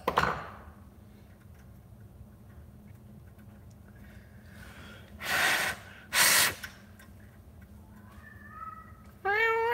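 A feral cat giving a few sharp, breathy meows and snorts, loud and close, separated by quiet pauses, with a rising meow call at the very end.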